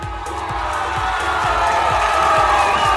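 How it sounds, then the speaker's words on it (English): An audience cheers and claps in a steady, loud roar of mixed voices and applause that swells slightly over three seconds, with a low rhythmic thump beating underneath. "The applause is great."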